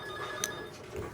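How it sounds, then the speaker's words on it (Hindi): A telephone rings faintly in a studio setting, a soft electronic ring tone with a short sharp burst partway through, low in level with no speech. "फोन बजता है।"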